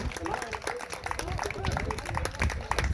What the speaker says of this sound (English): I want to hear a nice big round of applause for our band